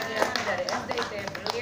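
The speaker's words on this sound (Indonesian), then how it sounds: "Tepuk tangan untuk Nafaza" Clapping for a young contestant, Nafaza, advancing at a children's preacher competition on television, heard as a short burst of scattered, uneven hand claps with voices underneath.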